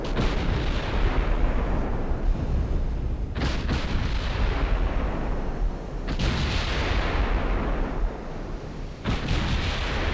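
Heavy naval gunfire from 14-inch battleship guns in Ultimate Admiral: Dreadnoughts, loud booming salvos over sustained rumbling, with sharp bursts near 3.4, 6.1 and 9 seconds.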